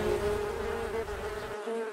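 A housefly buzzes steadily and close by inside a shop, a continuous droning hum lasting the whole moment with no talk over it.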